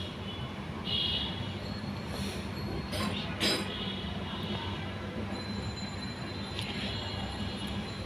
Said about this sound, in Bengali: নাড়াচাড়া করে আলুটা ভেজে নেব।